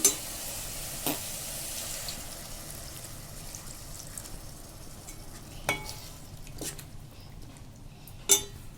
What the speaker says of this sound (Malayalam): തക്കാളി ഇതൊന്ന് മൂക്കട്ടെ.